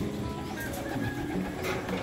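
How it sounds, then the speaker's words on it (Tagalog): Pigeons cooing inside a breeder's racing-pigeon loft, soft overlapping coos and low murmurs running continuously up close with no pauses. "Check natin yung mga ibon."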